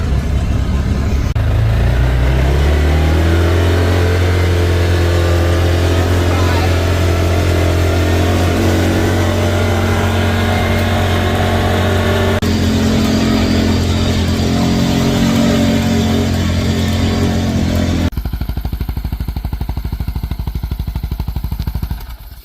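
A car pulling away on a test drive, loud and close, its engine revving up and droning steadily for about twenty seconds before the sound cuts off abruptly near the end.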